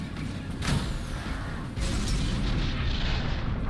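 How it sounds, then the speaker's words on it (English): Cannon fire in the video game A Knight's Tale, heavy low booming blasts that run together into a continuous loud rumble, close and dense, with a sharp surge midway. "I'll use my cannons on them though"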